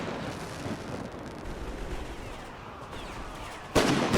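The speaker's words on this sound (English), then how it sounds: "The submachine gun fire." Rapid gunfire from a World War I era strategy game battle between Russian Empire and Red Army troops, a dense rattling wash of shots with a louder sharp burst near the end.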